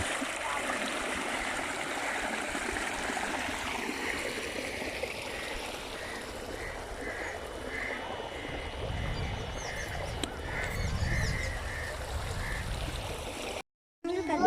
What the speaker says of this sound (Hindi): ये देखो यहाँ पे पानी है।